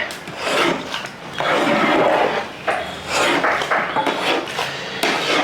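Scraping and rubbing of a spoon stirring chicken curry in a pot with coriander leaves, mint, onion and tomato, in steady continuous strokes with short pauses, close and fairly loud, with no talking.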